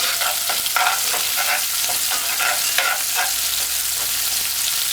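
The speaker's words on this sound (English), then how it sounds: "and the dry herbs. Stir this for 5 seconds." Dry herbs and pimento seeds stirred as they fry in a hot pan, a steady loud sizzle with repeated scraping strokes of the spoon close by, no voices.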